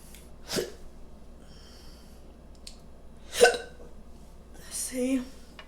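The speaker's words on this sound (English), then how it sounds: "I got the hiccups being greedy." Hiccups from someone eating White Castle Impossible Burger sliders, a few short sharp catches spaced apart over soft background noise, close to the microphone.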